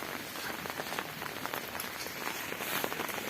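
Steady rain falls on a garden where chrysanthemums grow, a dense, even hiss of drops hitting surfaces, moderately loud and unbroken throughout, with no talking.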